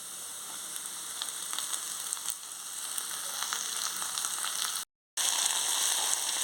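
Amaranth leaves frying with onions in a pan, a steady close sizzle with occasional stirring scrapes and a brief dropout near the end.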